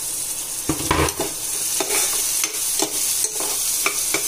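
Garlic cloves and onion frying in a pan, a steady hiss of sizzling oil with repeated scraping and clattering strokes as the mixture is stirred, close and continuous with no talking.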